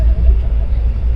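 Inside a moving train, a loud, continuous low rumble fills the space evenly with no distinct events.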